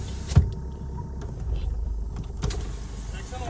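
A car's power window runs inside the cabin before a diesel drag race, giving a brief electric motor whine of about a second over low engine rumble, after a short bump.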